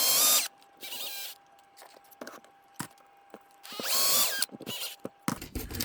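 A power drill bores in short bursts into a 1/14 steel plated CAT 973K model, stopping and starting with clicks and handling noises between the runs.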